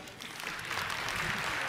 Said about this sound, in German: Einen großen Applaus für Björn